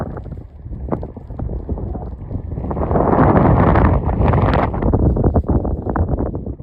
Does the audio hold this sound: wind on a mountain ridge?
yes